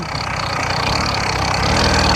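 A small petrol engine on a motorized bicycle drones steadily and close by, a buzzing, even-paced putter with no talk over it.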